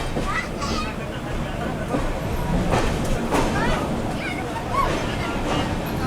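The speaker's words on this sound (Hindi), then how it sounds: "सामने से आ रही है पटना कोलकाता एक्सप्रेस" Patna–Kolkata Garib Rath express rolling past near Patna Junction, a steady broad rumble and rushing wheel noise sustained throughout, with a background hubbub of voices.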